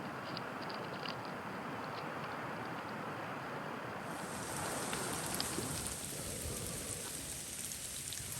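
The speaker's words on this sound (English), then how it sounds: "it's raining cats and dogs" Heavy rain pours steadily on Lord Howe Island, a dense continuous hiss of drops striking nearby surfaces, sustained and even with no voices.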